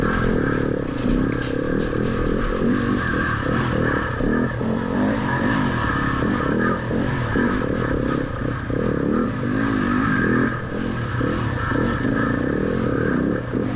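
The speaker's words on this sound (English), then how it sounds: "They do make some that intake noise coming out of the airbox right in front of you" Yamaha dirt bike racing a wooded trail at a hare scramble, its engine droning steadily and close with raspy airbox intake noise and clattering, continuous throughout without a break.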